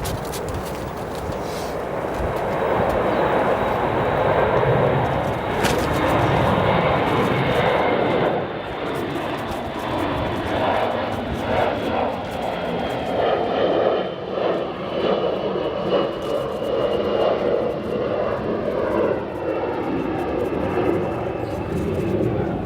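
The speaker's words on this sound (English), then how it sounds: "Go to a departing Airbus 321." An Airbus A321 jet departs O'Hare Airport, its engine roar loud and steady for the whole stretch, swelling slightly then easing as it climbs away, with no voices over it.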